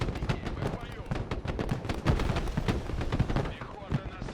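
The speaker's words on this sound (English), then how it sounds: "Nope, those are some auto cannons." Rapid bursts of heavy automatic cannon fire in the video game Broken Arrow, with booming impacts, dense and continuous, while a voice talks underneath.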